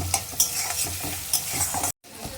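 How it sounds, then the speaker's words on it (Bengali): Onions frying in a pan for an egg and poppy seed dish, a steady close sizzle with scraping stirring strokes, briefly cutting out near the end. "লাল লাল করে একটু পেঁয়াজটা ভেজে নেব"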